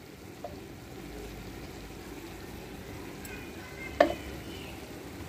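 Sliced onions with salt and chili powder fry in a pan with a soft, low sizzle while a spoon stirs them, and one sharp scrape or clink stands out partway through.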